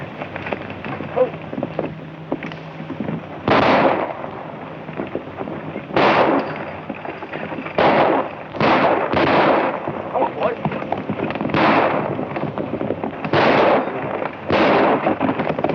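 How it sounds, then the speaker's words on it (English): Gunshots fired over people's heads in a 1935 Western film, a series of sharp cracks at irregular intervals over a rough background with some talking. "I want you to fire over their heads."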